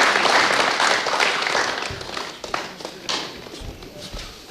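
Audience applause welcoming Punjabi singers onto a televised star night stage, a dense burst of clapping that gradually thins and fades.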